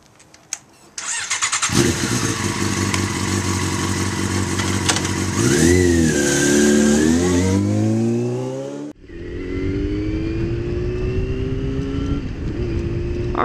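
A motorcycle engine starts up near the rider, settles into a steady idle, then revs with a rising and falling pitch before cutting briefly and resuming a lower running drone, heard while about to set out on the road.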